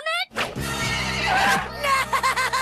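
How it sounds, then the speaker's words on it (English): A cartoon pony from the animated series Yin Yang Yo gives a loud, drawn-out whinny that rises and wavers, followed by a shorter, choppier burst of neighing. "Not even your faithful pony, Comet?"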